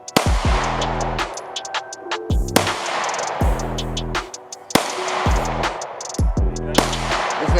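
Glock 43 pistol shots at a range, sharp loud cracks in irregular bursts with echoing tails, several rapid reports close by, with people talking in between.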